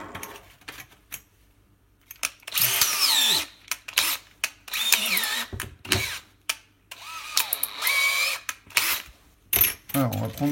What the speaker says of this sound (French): maintenant, on va prendre la visseuse. Voilà, on va prendre une mèche